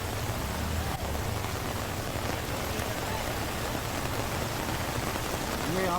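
Heavy monsoon rain falls in Uttarakhand as a dense, continuous hiss that stays loud and even from start to finish.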